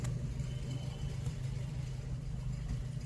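A car engine runs steadily during a driving lesson, a low, even hum close by with no clear rev changes, continuous for a few seconds.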